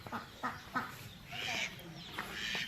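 Hens cluck and squawk in short bursts beside their coops over a busy farmyard background, several birds at moderate distance.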